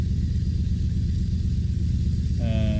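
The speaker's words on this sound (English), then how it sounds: "And this truck is loud." A Mack truck engine in American Truck Simulator idles with a loud, steady low rumble; a brief rising tonal chime cuts in near the end.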